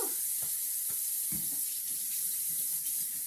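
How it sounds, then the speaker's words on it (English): Tap water runs steadily into a kitchen sink as hands are washed beneath it, a continuous close hiss with a few soft splashes, no talking. "We're gonna wash our hands."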